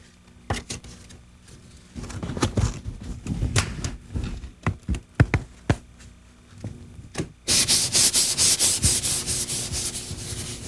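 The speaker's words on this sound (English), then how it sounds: "Now what I'm doing here is just finishing this up with a little bit of 400 grit paper" Car body primer surfacer is hand sanded with 400 grit sandpaper in rhythmic back-and-forth scratchy strokes, sparse at first, then a dense, louder run of quick rasping passes close by, with no talking.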